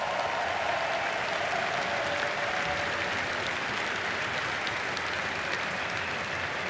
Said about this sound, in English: But all of the competitors deserve a round of applause.